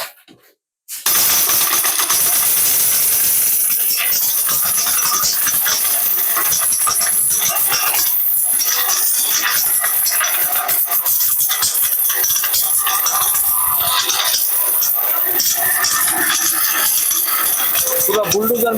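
A powerful electric blender grinding whole turmeric roots, starting abruptly after a second of near silence, then a loud, harsh, continuous whirring and rattling roar right up close that holds for the rest of the clip.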